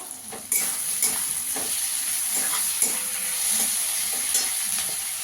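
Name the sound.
green chillies added to frying onions in pan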